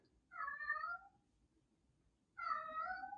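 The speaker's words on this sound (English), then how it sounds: "Can you hear our cat say hello?" A cat meows twice, clear and close, with a pause of over a second between the two calls over faint low background hum.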